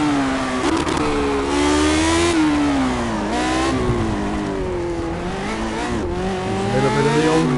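A Lotus 72D racing car engine screams around the Nordschleife, loud and close, its pitch climbing through each gear and dropping sharply at the shifts, with steady high revs throughout.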